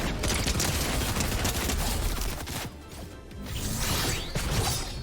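Dense Fortnite gunfire in a match forms a loud, continuous rattle of rapid shots with a brief dip midway and whooshing mechanical effects, and no clear voices over it.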